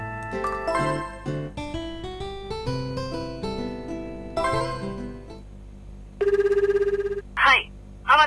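A telephone in Tokimeki Memorial Girl's Side 2 rings with a bright chiming melody over a game music background, followed by a short beep tone and brief speech at the end.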